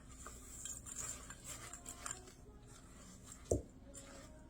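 Butterfinger pieces being mixed into chocolate whoopie pie batter, soft, quiet scraping and squishing of a utensil in a bowl with one sharper knock near the end.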